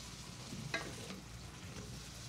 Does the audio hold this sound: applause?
no